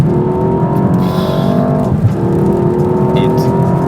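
A Mercedes-AMG S 63 E Performance accelerates hard from a launch, its loud, steady engine note pulling strongly with a brief dip midway, like a shift, before climbing again.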